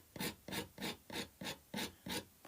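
Soft oil pastel scratched across paper in seven quick, evenly spaced rasping strokes, each a short dry scrape close up with brief pauses between.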